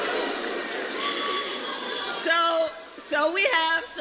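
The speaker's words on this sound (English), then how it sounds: "Got them howling in the crowd" A crowd at a campaign rally cheers and howls, a broad roar rising under a speaker's amplified voice, with individual whoops and shouts breaking through near the end.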